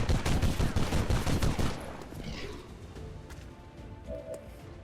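Rapid bursts of gunfire from soldiers in XCOM 2 (Long War 40k mod) crackle loudly for nearly two seconds, then fade into quieter game ambience.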